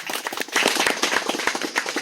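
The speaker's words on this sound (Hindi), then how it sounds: "ताली बजाओ।" Audience clapping at a live magnetic bracelet demonstration in a hall, a dense run of sharp, crisp hand claps with a few louder individual claps standing out, steady and fairly close throughout.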